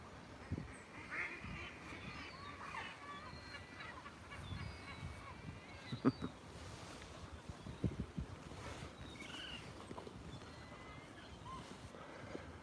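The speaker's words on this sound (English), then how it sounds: "Big feeding frenzy going on between seagulls and hawk crows and some ducks." Ducks quack and seagulls and crows call in a busy feeding frenzy in a park, a dense overlapping chorus at moderate distance with steady outdoor background noise.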